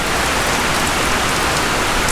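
Heavy rain pours steadily on a vegetable farm, a dense, continuous hiss of drops close by with no gaps or voices.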